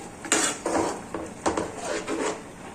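A spoon stirs green pigeon pea curry in a pan, sweetened and soured with lemon juice, making several close scraping strokes against the metal in an uneven rhythm with no voices.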